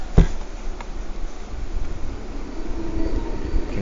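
A train recording plays from a bedside sleep sound machine, giving a steady rumbling, rushing noise with a faint clack near the start. It runs alone with no talk.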